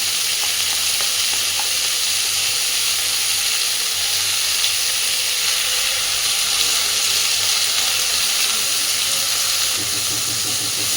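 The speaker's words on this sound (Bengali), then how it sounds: "ভাজা ভাজা হয়ে গেছে। এইবার আমি একটা ডিম ভেঙে এখান থেকে দিয়ে দিচ্ছি।" A cauliflower and potato curry sizzles and fries steadily in a pan as an egg is added, a loud, continuous hiss with faint stirring.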